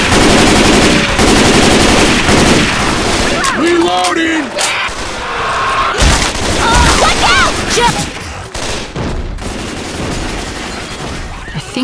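Rapid gunfire in the zombie shooter Left 4 Dead 2, loud close bursts and sustained automatic fire with sharp cracks, mixed with game sounds and occasional shouted voices.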